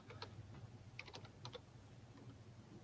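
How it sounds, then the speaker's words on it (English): Keys tapped on a computer keyboard in short bursts of quiet clicks, faint and close, with pauses between clusters and no talking. "Typing something in there for us"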